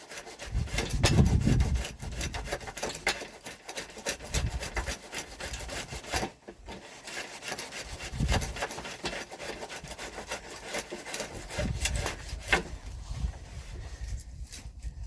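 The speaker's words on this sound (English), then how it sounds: "the spoke shave is taking a lot of wood off" Spokeshave shaving wood off a wooden staff shaft in a workshop, a steady series of close rasping, scraping strokes with low thumps and handling knocks between passes.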